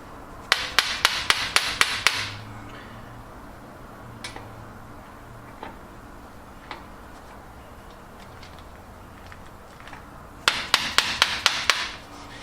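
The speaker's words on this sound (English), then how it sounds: "you're much better off using one of these impact drivers to try to get these off with" Sharp, rapid hammer blows on a hand impact driver loosening tiny screws on an Isuzu manual hub, two bursts of about six strikes each at the start and end, with a few faint taps between.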